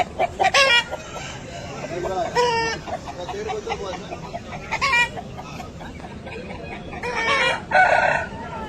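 A red Aseel fighter rooster crows repeatedly up close in several loud bursts, with clucks between them and a voice speaking now and then.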